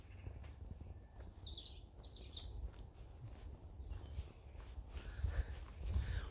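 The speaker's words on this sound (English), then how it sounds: "The birds." Birds sing outdoors in a sunny yard, faint scattered chirps and short warbling phrases over low background rumble and occasional footsteps.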